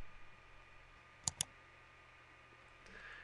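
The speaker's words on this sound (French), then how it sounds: "Je clique ici sur l'œil pour revenir à mon espace" Two crisp computer mouse clicks on an icon, close together and near, against a quiet low hum with no talk.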